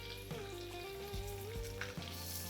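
A ground paste of green chili, garlic, sesame seeds and coriander sizzles steadily in a hot pan, a loud continuous crackle with occasional stirring clatters.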